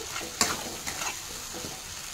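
Spices with turmeric and salt stirred in a hot pan for chicken keema: soft, close scraping strokes over a faint, steady sizzle, with no talking.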